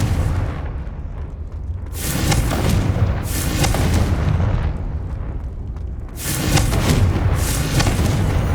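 Confringo spell explosions in Hogwarts Legacy on PS5, three heavy booming blasts, each rolling out for about a second or more, loud and close with rumbling tails, no talking.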